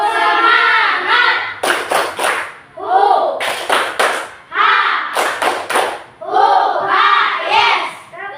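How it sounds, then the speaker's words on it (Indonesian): A school class leads the 'tepuk semangat' chant, children's voices calling out in rhythm between sharp bursts of unison hand claps, several sung phrases each punctuated by quick clap patterns. "kita tepuk semangat dulu"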